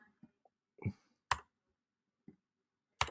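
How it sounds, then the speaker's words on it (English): Computer mouse clicks while colouring digital artwork: a handful of sharp, close clicks at irregular intervals, with quiet gaps between them and no talk. "You can also hold shift and just start clicking around"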